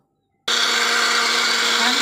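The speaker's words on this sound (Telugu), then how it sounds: "పైనాపిల్ ముక్కలను షుగరు కొంచెం వాటరు చిన్న సాల్ట్ వేసానండి మిక్సీ చూ చేసి చూస్తాను" After a moment of silence, a mixer grinder suddenly starts up and whirs loudly and steadily, blending pineapple pieces with sugar, water and a little salt without pause.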